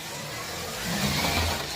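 A small slot car motor whines steadily as the car circles a track nearby, the buzzing pitch rising and swelling louder midway.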